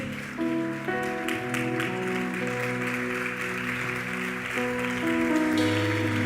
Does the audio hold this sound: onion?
no